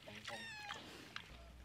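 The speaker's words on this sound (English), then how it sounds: "Oh, Kitty, no, don't get in there." A cat gives a short, brief meow close by, while a person talks softly nearby.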